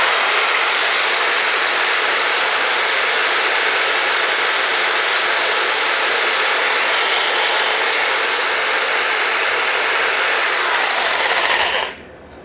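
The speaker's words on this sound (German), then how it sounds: "Und dann fangen wir als erstes mal an hier mit der Stichsäge." An electric jigsaw rated at 400 watts runs with no load, powered from a Jackery power bank, giving a loud, even, buzzing whine close by that holds steady for about twelve seconds before it is switched off and winds down.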